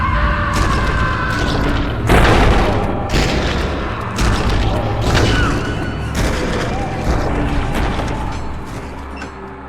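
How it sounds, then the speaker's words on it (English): Explosions go off behind the player in the Amnesia VR game, a series of loud booms and heavy thuds at uneven intervals, close and forceful, with mechanical clatter between them and some faint speech. "Things are exploding behind me."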